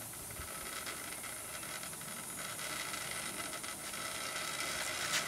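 Steam hisses steadily into the chamber of a Savery steam engine model, a continuous broad hiss with faint mechanical ticking that holds at an even level for several seconds, with no talking.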